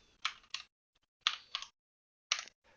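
Someone types on a computer keyboard in a few short, crisp bursts of clustered keystrokes separated by pauses, close and quiet, with no talking.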